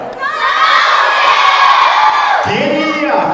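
A room full of children shouts out an answer together during an Alberta history quiz show, a loud, bright burst of overlapping young voices that swells, dips briefly and then surges again.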